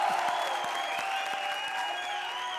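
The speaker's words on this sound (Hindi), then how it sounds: "जोरदार तालियां।" A comedy TV studio audience clapping in a loud, steady burst during a Comedy Circus episode, with music playing underneath throughout.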